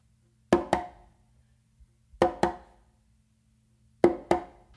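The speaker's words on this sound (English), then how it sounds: "what I'm gonna do is a close slap with my non-dominant hand" Close slaps on a conga played in a funk groove, heard as three pairs of sharp, crisp cracks, each pair a quick double hit, separated by short pauses, close and dry with no talking.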